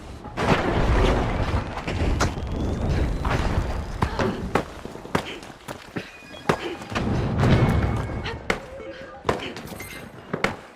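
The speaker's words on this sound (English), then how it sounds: "Throwing goo grenade" A goo grenade is thrown in the shooter game The Finals, with a run of dull thumps and booming impacts scattered among busy match noise.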